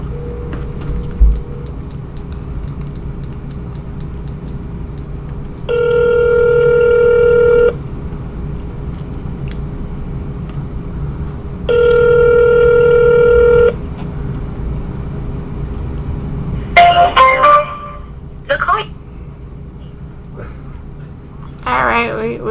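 A telephone rings in two long electronic bursts, each about two seconds, with a low steady hum and a person talking nearby through and between the rings.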